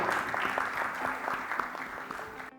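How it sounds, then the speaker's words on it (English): Audience applause at a conference fireside chat on digital accessibility, a steady wash of many hands clapping at moderate loudness that cuts off abruptly at the end, with no voices. "a round of applause for Irene and Jennison."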